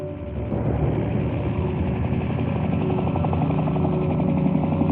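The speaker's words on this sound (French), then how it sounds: "La dépouille de Ben Laden prend place à bord d'un hélicoptère venu en renfort" A helicopter's rotor thumps steadily with a loud, continuous engine drone, close and unbroken for the whole stretch.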